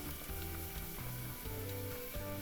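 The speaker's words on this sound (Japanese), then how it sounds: "今中までニンニクがしっかりと沸いてふつふつしたので" Garlic bubbling in olive oil in a frying pan for a shrimp peperoncino pasta, a dense, close, continuous sizzle that rises briefly as the pan is gently shaken.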